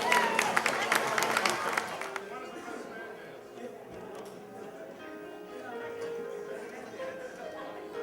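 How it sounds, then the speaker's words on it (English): An audience bursts into brief applause for Tiffany and her father Kurt, with dense clapping for about two seconds that quickly fades under soft music and singing. "Round of applause for Tiffany and her father,"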